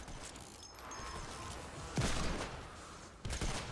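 Deagle pistol shots in Fortnite, two sharp reports a little over a second apart rising from a busy game backdrop of faint tones and rumble.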